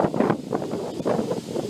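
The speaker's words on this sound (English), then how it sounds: "When I said that it was windy, this is what I meant" Gusty wind buffets an outdoor microphone on a breezy day in Qatar, a steady rumbling roar with swelling rustling bursts, close and fairly loud, with no one talking.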